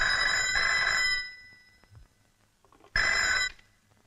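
An old-style telephone bell rings twice in a Hindi action film scene with Mithun Chakraborty, two loud bursts separated by a short quiet gap, heard alone without talk.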